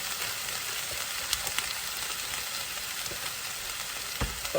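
Nigerian beef suya sizzles in a hot pan as it is stirred, a steady broadband frying hiss broken by a few sharp clicks of the utensil, with no talking.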